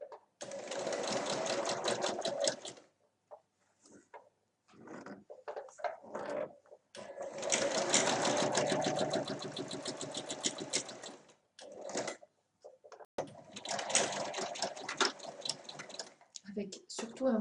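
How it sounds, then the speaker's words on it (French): A sewing machine stitching around the edge of a cushion cover, running in several loud, rapid bursts separated by short pauses, close up, with a person speaking at times between bursts. "je vais coudre tout le tour du coussin"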